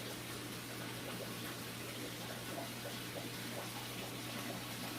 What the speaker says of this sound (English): So I'm going to get these tanks drained